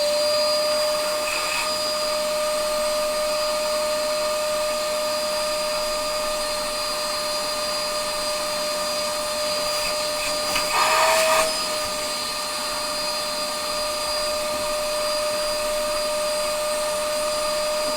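Vacuum cleaner running steadily over a 1973 Williams Triple Action pinball relay and motor board, a loud continuous whine with a brief surge partway through.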